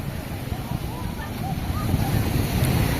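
Strong ocean surf rolls and crashes continuously along a beach during an outdoor gathering, a broad roaring wash with wind buffeting the microphone, swelling slightly louder toward the end.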